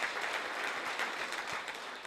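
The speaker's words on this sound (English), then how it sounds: "Owino, let's clap for him." Audience clapping at a welcome address for parents and new day students, a brief, fairly faint patter of hands with no talking over it.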